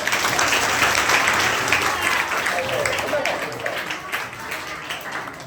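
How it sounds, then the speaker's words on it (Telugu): Students in a school communication skills class clap for a classmate, a dense, loud burst of applause that gradually thins, with voices mixed in. "పూజిత కోసం క్లాప్స్ కొట్టండి"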